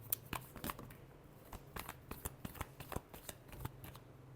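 Tarot cards being shuffled by hand, a quiet run of crisp riffling snaps and soft flicks in an irregular rhythm, close and alone.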